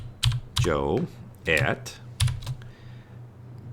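A few clicks of a computer keyboard as a short command is typed, sparse close keystrokes mixed with someone talking over them.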